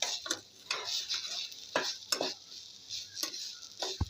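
Grated coconut roasts in hot ghee in a pan, with a faint sizzle under repeated scraping and stirring strokes of a spatula against the metal, spaced irregularly and fairly close.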